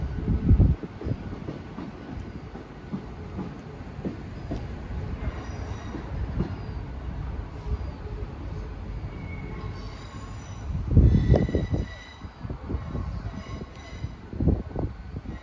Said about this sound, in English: 175116, working a transport for Wales service to Manchester Piccadilly via Shrewsbury and Crewe from Milford Haven